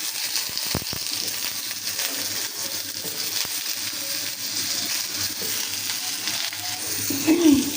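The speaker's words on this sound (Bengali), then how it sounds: "তো এখানে আমি আলু ভেজে নিতেছি।" Potatoes frying in a pan, a loud steady sizzle and crackle heard close, with a few light scrapes and knocks of stirring and no talking.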